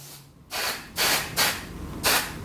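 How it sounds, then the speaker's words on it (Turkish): Smoke detector test spray from an aerosol can hisses in four short bursts, close and distinct, with brief quiet gaps between them. "Yine test spreyimizi alalım."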